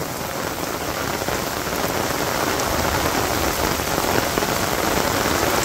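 Steady rain pours down in a Bangladesh village during the rainy season, a dense, even hiss of drops striking surfaces that stays loud and constant without letup.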